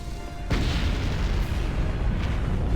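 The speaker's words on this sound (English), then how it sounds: "the ship is exploding, but it deals no damage" A spaceship explodes in the Star Wars game Knights of the Old Republic, aboard the Endar Spire. A heavy boom lands sharply and then rolls on as a dense, sustained rumble with a second swell near the end.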